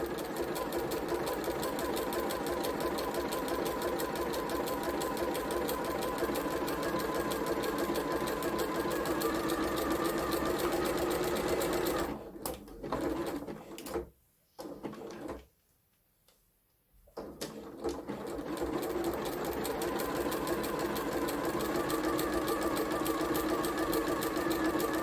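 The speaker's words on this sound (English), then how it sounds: "It always feels a little bit slow when you're stitching with stretch fabrics, as it is going forwards and back" A sewing machine stitches stretch fabric with a steady, even whirring hum that stops for a few seconds in the middle, then starts again and runs on without talking.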